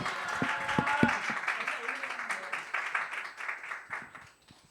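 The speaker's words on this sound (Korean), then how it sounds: "우리 다 같이 박수!" A church congregation at an anniversary worship service claps together in welcome, moderate applause with distinct individual claps early, mixed with voices and fading out near the end.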